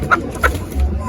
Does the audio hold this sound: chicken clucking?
yes